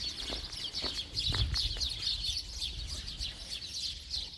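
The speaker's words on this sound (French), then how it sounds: "C'est le beau chant des oiseaux." Birds sing on a street along the Portuguese Camino de Santiago, a busy stream of high chirps and trills repeating throughout, fairly close, over faint low street noise and scattered knocks.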